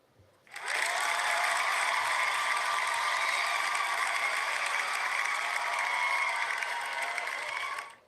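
A cheering and applause sound effect plays on a livestream, starting abruptly and holding as a dense, even burst of clapping for about seven seconds before cutting off, with no voices.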